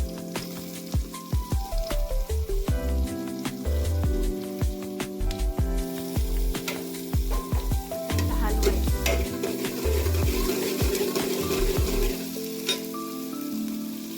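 Curry leaves and diced potatoes sizzle loudly as they fry in a pan for khichdi, steady crackling overlaid with repeated scraping and clattering stirs, close and continuous, with no talking.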